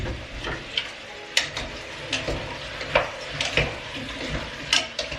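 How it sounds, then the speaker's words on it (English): A spoon stirs pumpkin soup in a pot with nutmeg and curry, scraping and clinking in irregular strokes, close and fairly loud, with a faint sizzle beneath. "And just keep on stirring"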